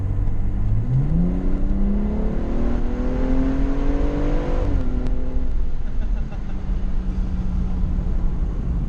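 A BMW M235i six-cylinder engine revs up steadily, its pitch climbing through the gears, then drops back to a lower steady hum, loud and close.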